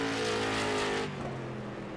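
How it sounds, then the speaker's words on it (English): Race car at Thompson International Speedway in the final laps, its engine droning loudly with steady harmonic tones, then easing off as it moves away, with a rougher crackling exhaust edge. "The pops of the exhaust of Roberts as he'll make his way around the final 2 laps at the Thompson International Speedway."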